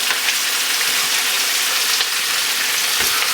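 Pork steaks, added after onions have turned translucent and caramelized, frying in a pan with a steady, dense sizzle that holds loud and even throughout.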